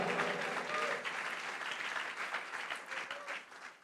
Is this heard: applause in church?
yes